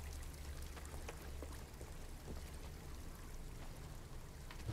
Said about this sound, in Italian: Perché qua c'è l'acqua.